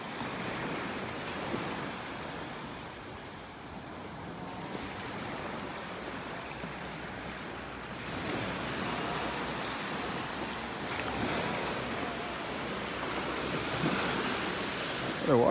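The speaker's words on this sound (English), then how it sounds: "The water is really churned up here." Churned-up surf rolls onto a beach in North Naples, Florida, a broad continuous wash of breaking waves swelling and easing, with wind buffeting the microphone.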